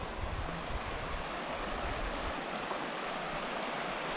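A river flows down from the mountains in a continuous, even rush of water that holds at moderate level from start to finish with no other sounds.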